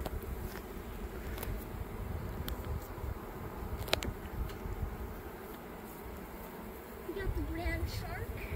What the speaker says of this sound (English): We have to collect these bees off the top.